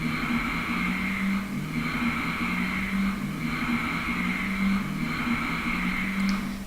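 Steady cartoon car engine drone used in an animation, a loud continuous hum with a faint periodic pulsing that holds evenly from start to finish.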